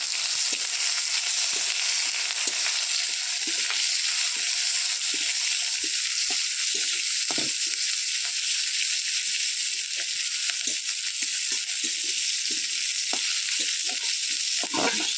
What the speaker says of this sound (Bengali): পেঁয়াজ দিয়ে দেওয়া হলো।